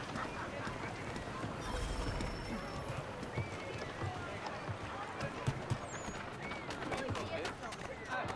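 Horses in Assassin's Creed 3 on a busy colonial Boston street, with hooves clip-clopping and a brief neigh amid crowd murmur and bird calls, while a voice talks over the scene.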